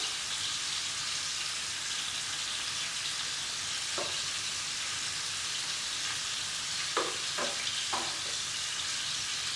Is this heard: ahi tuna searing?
yes